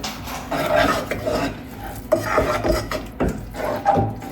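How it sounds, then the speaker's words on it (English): Betty Crocker batter being mixed in a bowl until smooth, close wet scraping and rubbing strokes that repeat in an uneven rhythm. "we're mixing it until smooth"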